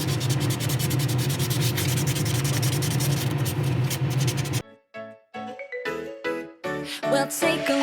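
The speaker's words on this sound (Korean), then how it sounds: "이거 스펀지 사포." An 800-grit sponge sandpaper rubs over a Gundam plastic model part in a steady, close scratchy hiss, then breaks into short separate strokes as music plays along.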